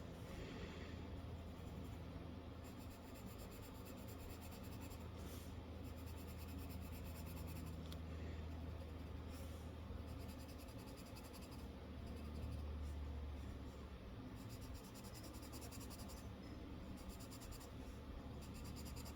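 Colored pencils scratch steadily across paper while a coloring book page is filled in, a soft, close, continuous scribbling texture lasting throughout, quiet and without speech.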